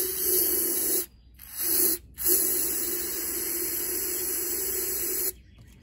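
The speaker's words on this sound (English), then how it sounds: "I'm going to spray a bunch of Gumout into here to help it to lubricate this thing" Gumout cleaner sprayed from an aerosol can into the gas tank of a Homelite chainsaw, a steady close hiss in three bursts with two brief pauses, then cutting off near the end.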